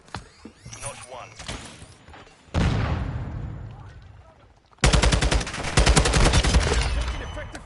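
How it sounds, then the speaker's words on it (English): Video game gunfire in a military shooter: scattered shots, then a loud sustained burst that fades, and a second dense burst of rapid automatic fire near the end, with voices talking over parts of it. "Taking effective fire."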